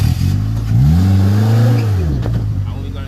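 A manual transmission car engine revs up and climbs in pitch, eases off, then pulls again, close and loud inside the cabin.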